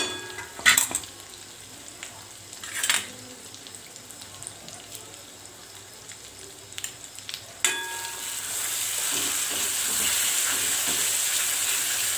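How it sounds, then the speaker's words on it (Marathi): Spatula scrapes and stirs a pan, then from about eight seconds a steady sizzle of spice paste frying in hot oil builds and holds. "आपण हे वाटण चांगलं तेलामध्ये फ्राय करून घेणार आहोत।"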